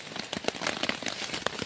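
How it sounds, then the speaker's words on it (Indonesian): Light drizzle falls on a mountain summit, with scattered close raindrop taps and crackly patters spread irregularly across a steady wet background, and no voices heard. "kehujanan di puncak gunung"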